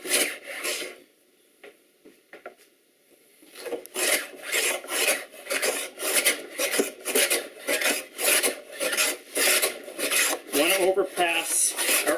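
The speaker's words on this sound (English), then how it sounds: "I'll move from end to end, but I'll move by planing on a little bit of a" A hand plane shaves across a wooden bench surface in long, steady rasping strokes, each pass repeated in an even rhythm, close and fairly loud after a brief quiet start.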